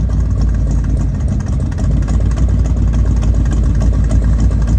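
A rumbling 1968–69 first-generation Camaro engine idling through chambered exhaust with a choppy, lopey note, steady and close.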